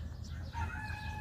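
A rooster crows inside a chicken house, a short drawn-out call heard close by against a low background hum, with no talk.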